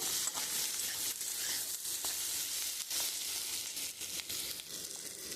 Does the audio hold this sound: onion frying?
yes